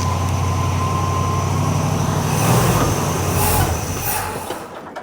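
International Scout engine running with a new carburettor, throttle blipped and revved, a loud close rumble rising in the middle and then fading as fuel runs out.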